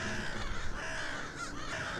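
A seagull calls over a noisy outdoor scene at a Korean tightrope-walking performance, a faint cawing cry partly buried in dense crowd and ambient noise.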